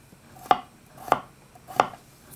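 Three sharp knife chops through potatoes on a cutting board at an even pace, crisp and close, with quiet room noise between them.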